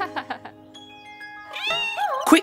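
A cartoon kitten gives a few rising, wavering meows after some brief plucky notes and a sustained tone, with a sharp squeal at the end.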